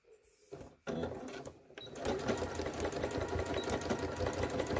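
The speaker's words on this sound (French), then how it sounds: "Et voilà, on va coudre." A sewing machine stitching a bulk bag: a few faint clicks and a short start, then a steady, fast mechanical chatter running close and loud through the rest of the clip.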